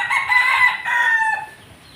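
A White Kelso rooster gives one loud, close crow that holds steady for about a second and a half and then tails off, with no voices.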